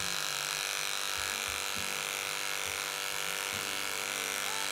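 Electric dog clippers with a 7F blade trim a miniature schnauzer, giving a steady, close, high motor whine, with the tone dipping briefly as the blade moves through the coat and no talk.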